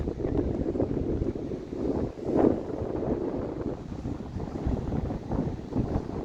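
Wind buffets the microphone on a choppy, overcast day at a rocky seaside point in Hawaii, a constant low roar with a gust swelling in the middle and no voices.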